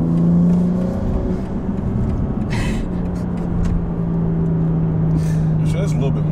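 Low exhaust rumble from a 550whp BMW G80 M3 Competition, a steady deep drone running the whole time with a slight swell near the start, with people talking over it.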